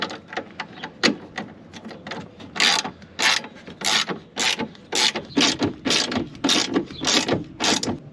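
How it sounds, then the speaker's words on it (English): A ratchet clicks repeatedly at close range while tightening bolts on a swivel seat base in a Ford Econoline camper van conversion. The clicks come in short rhythmic bursts of cranking with brief pauses between them. "So I can just throw the ratchet on there."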